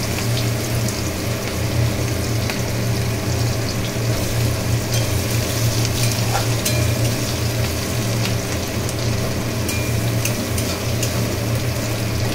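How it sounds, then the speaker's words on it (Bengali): Chopped onion with cumin seeds frying in oil left over from frying fish, a dense steady sizzle like rain, with a low hum beneath and no talk. "মাছ ভেজে রাখার পরে আমি এর মধ্যে একটু পেঁয়াজ কুচি দিয়ে দিলাম"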